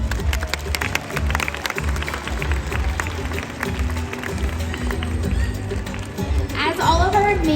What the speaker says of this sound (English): I think you all deserve a big round of applause